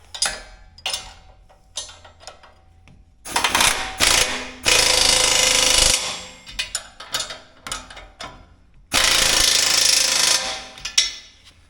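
A bolt being tightened with a ratchet on a Danuser fork grapple during assembly: bursts of rapid ratchet clicking alternate with short pauses and scattered metal clanks, close and fairly loud, with no talk.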